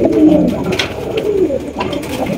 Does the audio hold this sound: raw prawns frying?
no